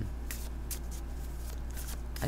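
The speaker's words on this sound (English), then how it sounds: "It's just I can shuffle this more comfortably" Crow Oracle cardstock cards are shuffled by hand in quick, soft riffling bursts, close and fairly quiet over a low steady hum.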